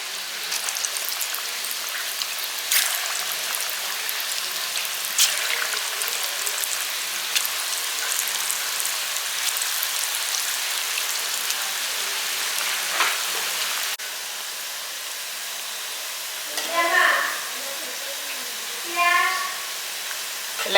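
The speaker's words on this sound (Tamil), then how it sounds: "எண்ணெய் காஞ்சிருச்சு. கோலா உருண்டையை ஒன்றா போட்டுடலாம்." Vegetarian kola balls deep-frying in hot oil, a steady close hiss of bubbling oil with light crackle, with brief voice-like bursts near the end.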